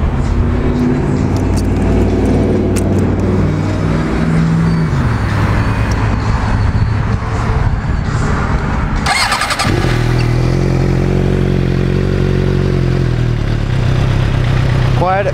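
A Suzuki GSX-R 600 sport motorcycle cranked and brought to life, its engine idling loudly and revving with a deep, steady drone, briefly cutting out and then running again.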